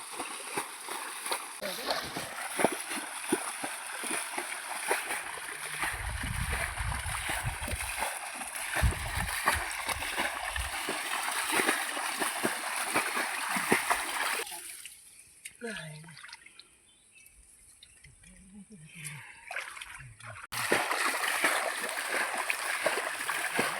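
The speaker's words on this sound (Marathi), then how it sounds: "चला तर सर हा पाणी उपसायला सुरुवात झाली हा एवढा सर्व खाली करायचं पाणी" Water is bailed out of a small pool during traditional fishing in Konkan, with repeated close splashes and sloshing, a quieter stretch midway, and voices talking in between.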